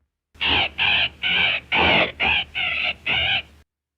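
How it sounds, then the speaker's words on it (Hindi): A parrot screeches in a 1933 film: seven loud, harsh, raspy calls in a steady sequence, each about a third of a second long with short gaps between, heard alone and close up with no talking. "और ये तोता क्यों चीखें मार रहा है?"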